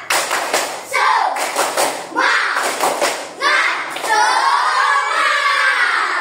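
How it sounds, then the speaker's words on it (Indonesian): Classroom pupils repeat the 'tepuk semangat' clapping chant, sharp rhythmic bursts of many hands interleaved with children's chanted voices, loud and near, ending in sustained shouting. "Kita akan melakukan tepuk semangat"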